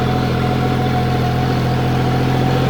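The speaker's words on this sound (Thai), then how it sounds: "ขี่ไถพวงตรงๆเลย" A tractor pulling a 5-disc, 22-inch disc plow, its engine a loud, steady, close drone with a constant low rumble and vibration and no pauses, with no voices over it.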